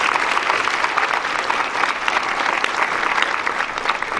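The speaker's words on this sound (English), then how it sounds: "let's give them a round of applause again here real quick" A fundraiser audience applauds its precinct chairs, dense sustained clapping from a crowd filling the room evenly for several seconds, without a pause.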